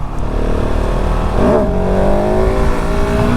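A 2019 KTM 690 SMC R supermoto motorcycle engine accelerating hard, a loud close single-cylinder roar rising in pitch midway and holding under heavy wind rush.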